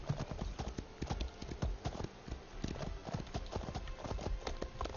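Horse hoofbeats in the Elder Scrolls Online video game, a quick steady clip-clop gallop of a ridden horse, moderately near, with faint talk beneath.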